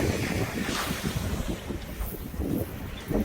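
Strong wind at sea during cast-net fishing, roaring and buffeting the microphone continuously with surf and waves beneath it, loud and close, with no talking.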